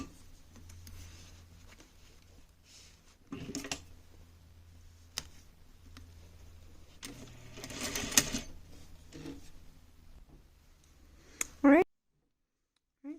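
A sewing machine runs a stitching pass along the strap seam of a wedding dress, with faint, steady mechanical ticking under low background noise and brief handling clicks near the end.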